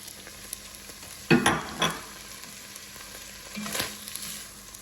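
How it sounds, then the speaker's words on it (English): Half an onion hits melted butter in a pan, giving a short burst of sizzling with a couple of stirring scrapes, then settling into a quiet, steady fry with another brief flare near the end; no voices. "So we're gonna go ahead and add our half an onion."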